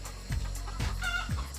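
Village chickens clucking in a garden, several short rising clucks repeating roughly every half second, fairly close and moderately loud with no talk.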